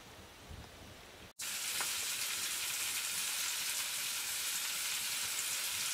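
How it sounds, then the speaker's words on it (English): Steak sizzling in a pan, a steady bright frying hiss that starts suddenly after a quiet moment and carries on evenly, close and continuous with no voices. "so I'm cooking myself a steak tonight"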